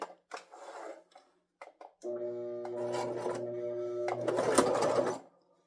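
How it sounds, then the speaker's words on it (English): A few clicks and rustles, then a sewing machine whirs into a steady hum of stitching for about three seconds, speeding up briefly before stopping. "it's been a while since I've used this sewing machine, so let's see if I got it all threaded"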